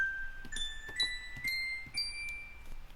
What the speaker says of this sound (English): Alright, so crotales sound like this.